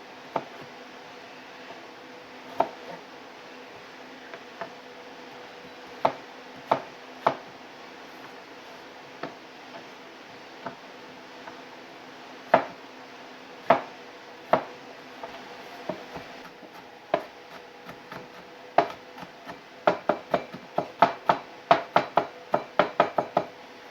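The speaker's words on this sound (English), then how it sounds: "take 2 garlic cloves. And chop those up real fine" Two garlic cloves chopped finely with a knife on a board: sharp, sparse taps at first, then a quicker, steadier run of close knocks toward the end.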